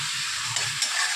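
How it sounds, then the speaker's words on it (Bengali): Fried chicken pieces stirred and sautéed in a pan, a loud close sizzle with the scrape of a spoon moving through the meat, continuous and without talking. "দিয়ে এটাকে কিন্তু আমরা ভালো করে কষতে থাকবো, ভালো করে কষবো।"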